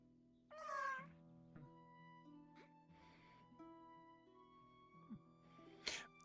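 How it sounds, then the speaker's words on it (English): A cat's drawn-out, harsh, eerie meow rises loud near the start, with fainter catty cries and rustles after it and a sharp squeal near the end, all over a steady low hum. "If I've ever heard anything I would describe as a demonic meow, that was a demonic meow"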